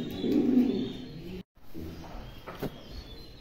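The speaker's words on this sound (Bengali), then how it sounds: "প্রত্যেকটা কবুতরই মাশাআল্লাহ দেখার মতন কবুতর" Mundi pigeons coo softly at close range in a few low, throaty bursts, with a brief silent gap partway through and faint background sounds.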